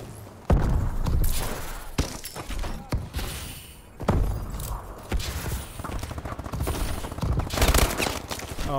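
Rapid automatic gunfire in the Call of Duty: Advanced Warfare MP11 map Greenband, with dense bursts of shots and thuds and a few louder impacts, loud throughout.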